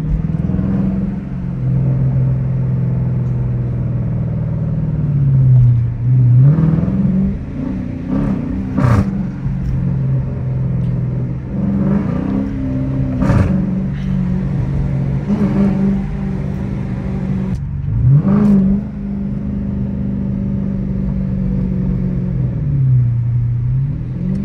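A Dodge Challenger R/T driven through the city at night gives a loud, deep engine rumble heard from inside the car, rising and falling through several revs and gear changes over about twenty-five seconds.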